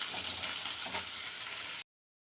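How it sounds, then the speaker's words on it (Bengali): Chopped onions and dried red chilli frying in an oiled pan, a steady close hiss of sizzling with faint stirring scrapes, running continuously until an abrupt stop. "এরপরে পেঁয়াজ কুচি দিয়ে দিলাম। এখন এগুলো একটু ভেজে নেব।"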